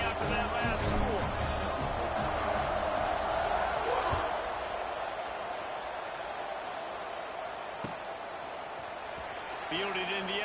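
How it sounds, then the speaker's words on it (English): A football stadium crowd keeps up a steady, broad buzz of murmuring and cheering after a score, the roar sustained throughout beneath an announcer's play-by-play commentary. "this crowd is buzzing after that last score"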